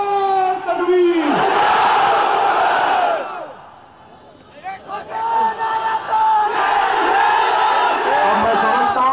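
A large crowd at a political rally in Mumbai's Nagpada roars back in loud, sustained chanting, with a brief lull in the middle before the massed voices swell again.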